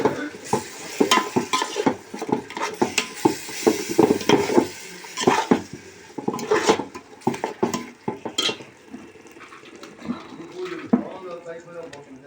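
A spice mixture fries in a pan for mint rice, with clattering stirring strokes of a spoon against metal and a light sizzle underneath, while someone talks over it.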